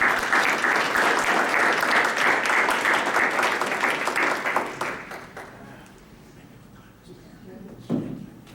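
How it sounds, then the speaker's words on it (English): A crowd at an academic anniversary commemoration applauds the President, dense clapping for about five seconds that then fades to a quiet room, followed by a short thump near the end. "let's give him another round of applause"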